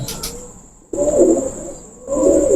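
A golden pigeon coos close by in low, rolling bursts, with two cooing phrases separated by a brief pause and a faint high whine in the background.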